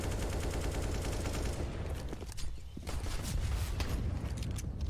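Gunshots in CS:GO, with continuous overlapping gunfire rattling throughout, dense and fairly loud, with a brief dip midway before the shooting picks up again.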